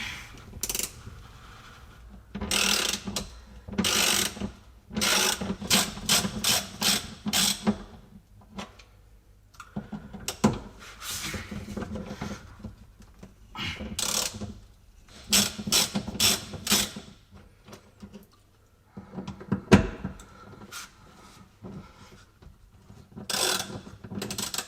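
Ratchet wrench loosening four T30 bolts on a corroded Jaguar S-Type rear bumper, heard as repeated bursts of quick, close clicking strokes separated by short pauses, with no talk.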